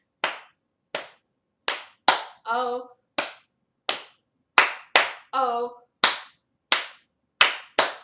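Sharp hand claps keep a steady beat to the Bingo children's song, about a dozen crisp, close claps evenly spaced, with a voice singing short sustained notes between a couple of them.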